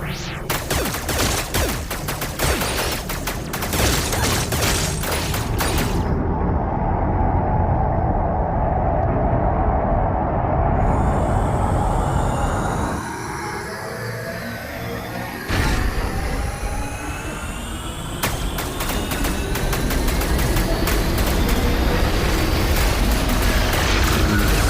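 Gunfire and combat in the Deadpool VR video game, dense bursts of shots and impacts over a loud, busy soundscape that briefly drops and then resumes.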